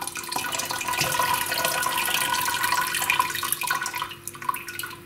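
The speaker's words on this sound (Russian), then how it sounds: "И аккуратно сливаем воду в кастрюлю" Hot water is carefully poured from a hot glass jar of mulberry compote into a pot, a steady close trickling and splashing stream that thins and turns to sparse drips toward the end.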